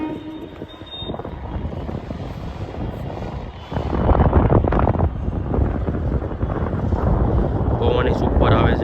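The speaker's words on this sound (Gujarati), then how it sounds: "પવન સુપર આવે છે." Strong wind buffets the microphone on a high rooftop overlooking a city railway station, a heavy roaring rumble that swells louder midway and stays steady to the end, with a person's voice faintly present.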